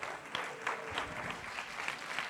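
Applause from an audience at a job day conference session in Cagliari, Sardinia, a steady patter of clapping hands filling the room, moderately loud and continuous.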